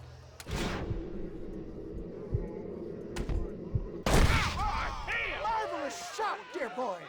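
Gunfire in the video game Red Dead Redemption: a sharp single shot, a few lighter cracks, then a heavy blast followed by shouting voices and a lingering reverberant rumble.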